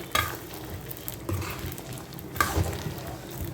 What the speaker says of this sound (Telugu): ఇప్పుడు మనం ఇందాక ఫ్రై చేసుకున్న ముక్కలు వేసుకుందాం. ఒకసారి కలుపుకుందామండి.